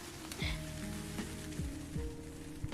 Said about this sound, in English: Rain pitter patter.